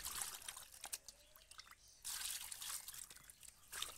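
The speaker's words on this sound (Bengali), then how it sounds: "এবার আমি মাছগুলোকে ধুয়ে নিচ্ছি" Fresh pond catla and pangas fish are rinsed in water a small batch at a time, with soft splashing, dripping and trickling close by.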